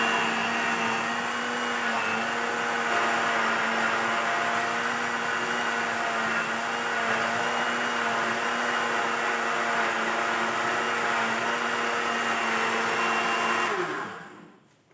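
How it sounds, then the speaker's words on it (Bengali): Milk cream is churned into butter at home with an electric blender, producing a loud, steady motor whine with a constant droning pitch that runs for the whole stretch and then winds down abruptly at the end. "দুধের সর থেকে মাখন তৈরি করছি।"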